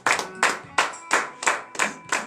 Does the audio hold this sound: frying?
no